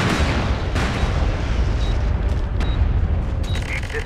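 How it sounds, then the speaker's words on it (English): Planted charges going off at a roadblock in the video game MAG, a loud, sustained rumbling blast with sharp bursts and distant pops layered through the battle noise. "We planted charges at the roadblock."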